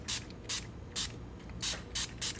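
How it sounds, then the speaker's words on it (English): Glimmer Mist ink is sprayed onto paper in short, airy hisses, about six quick pump bursts at an irregular rhythm, close and clear over a low steady background hum. "you'll notice I continue spraying until I see some of the pool"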